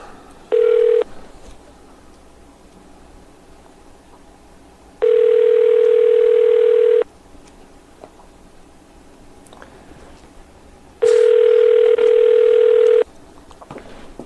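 A telephone ring tone sounds three times on an outgoing call, a short burst then two long steady tones separated by quiet pauses.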